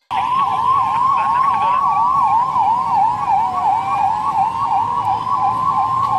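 A new anti-riot vehicle of the Congolese national police sounds its siren, a loud, close, rapidly warbling wail cycling steadily without pause.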